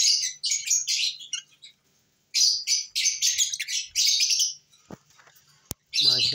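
Lovebirds, including albino red-eyed birds, chirp in rapid, busy bursts close to the microphone, with a short silent gap, then more chirping and a few sharp clicks near the end.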